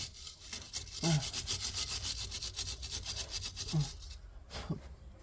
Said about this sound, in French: avec une brosse métallique, on va frotter un petit peu la potence